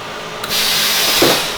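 A screen printing flash cure unit switches on at a press station, giving a sudden loud, steady hiss of rushing air that holds close and constant for over a second.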